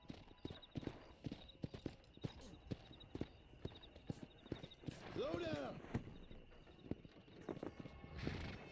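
Horse hooves clip-clopping in the Red Dead Redemption video game, a steady walking rhythm of sharp hoofbeats with a brief whinny midway and chiming game sounds above.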